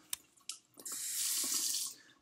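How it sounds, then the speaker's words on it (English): Tap water runs into a cup, starting with a few splashy spurts, then settling into a steady, quiet stream that fills for about a second before easing off, with no voices. "gonna wanna fill a second cup with lukewarm water."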